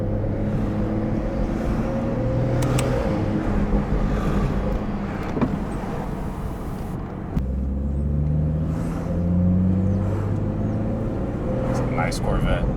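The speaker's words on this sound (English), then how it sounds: "It's a nice Corvette." A Corvette's engine rumbles past outdoors on a mild winter day, a deep low drone that swells and shifts in pitch as it passes, with a sudden change midway and steady wind noise over the microphone.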